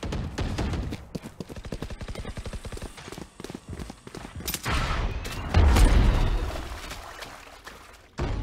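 Valorant video game combat: a rapid string of sharp gunshots rattles for several seconds before a loud, deep grenade blast booms and trails off into a rumbling decay, followed by another burst of fire at the very end.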